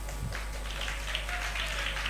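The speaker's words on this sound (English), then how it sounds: "I think my team and I deserve some applause" Applause from an audience at a pageant unveiling event, a steady, fairly faint wash of clapping that holds for the whole stretch without talk.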